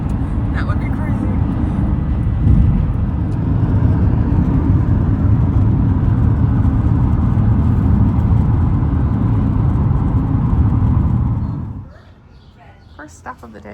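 A car on a road trip toward Seattle gives a steady road and engine rumble for about twelve seconds, then quickly drops away to quiet near the end.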